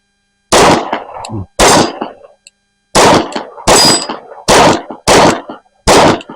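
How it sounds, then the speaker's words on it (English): Pistol shots from a magazine fired at steel targets, seven sharp loud reports in an irregular rhythm, each with a brief ringing decay, close by and alone without talk. "let's go ahead and go through the rest of this mag on some steel targets"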